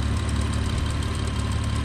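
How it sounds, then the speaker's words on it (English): A car's engine idles steadily with a loose exhaust, the centre section of the pipe rattling, giving a continuous low rumble with a rough, knocking texture throughout, close and loud with no talk. "The exhaust rattles like a bitch."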